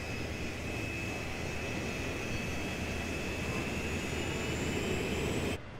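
Twin-engine CF-18 fighter jet producing a steady, loud engine roar with a high whine, continuous for several seconds before cutting off abruptly at the end.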